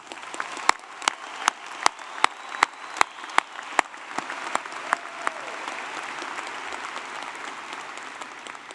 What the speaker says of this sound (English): I think you all deserve a very loud round of applause.